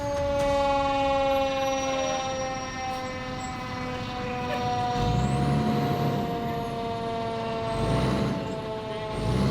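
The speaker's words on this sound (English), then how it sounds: "Engine 4 arrives on scene" A fire engine arriving at a fire department training exercise wails its siren in slow rising and falling sweeps over a loud, steady engine drone, with air-brake hisses as it pulls up close.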